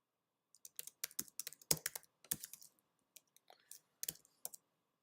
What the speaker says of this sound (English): My typing is not what it could be.